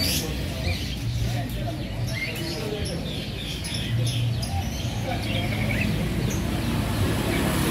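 Busy chatter of caged pigeons, soft coos and small chirps, fills a bird market in Tunggorono, Jombang, running steadily under nearby voices.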